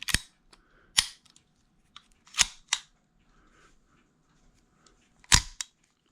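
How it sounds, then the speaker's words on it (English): A Ruger MK III .22 LR pistol magazine is reinserted, giving a few sharp metallic clicks and snaps spaced out across a quiet background, close to the listener. "and reinsert your mag."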